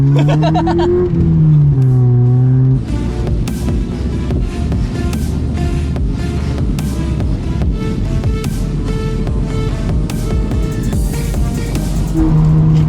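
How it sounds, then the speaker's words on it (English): An old Honda Prelude with a badly slipping clutch revs hard, giving a loud, sustained engine note with wavering, climbing pitch that runs without a break. "that clutch is slipping a lot"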